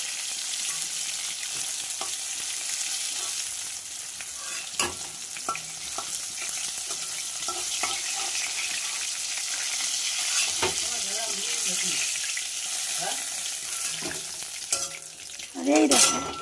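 Lote fish (Bombay duck) fry in hot oil with a continuous sizzle, broken by occasional clinks and scrapes of a utensil on the pan.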